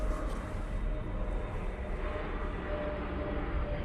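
A heavy jet approaching Manchester Airport, a broad steady engine roar held at constant loudness, distant and unbroken, with no talk.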